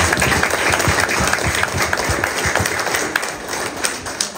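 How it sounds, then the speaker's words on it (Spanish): Audience applause at a municipal event marking a finished corridor project, dense continuous clapping from many hands filling the whole stretch at steady loudness with no talk over it. "Por favor, brindémonos un fuerte aplauso al señor Samuel."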